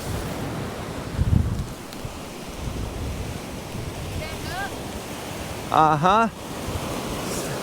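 Ocean waves break and wash on a beach during surf fishing, a constant wind-blown roar with a brief voice murmuring in the middle.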